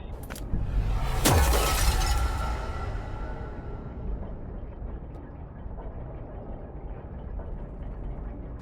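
Glass mirror doors shatter in the video game SCP: Secret Files: one sharp, loud crash with bright scattering debris, then a long fading tail of settling shards over a low ambient rumble, with no voices.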